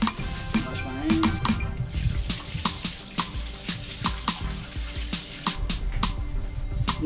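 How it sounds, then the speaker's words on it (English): Tap water running as hands are washed in a home kitchen while shrimp are prepared for frying, a soft steady splash broken by frequent clatters and knocks of dishes and utensils nearby, with brief voices. "Wash my hands."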